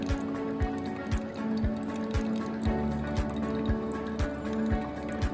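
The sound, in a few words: hot water poured in small circles over hand-drip coffee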